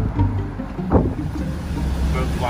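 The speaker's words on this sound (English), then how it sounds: "Boat flying by." A motorboat speeds past on open water off Florida, heard from a sailboat anchored after a summer storm. A steady broadband wash of wind and waves carries the engine's low rumble, which swells briefly near the middle.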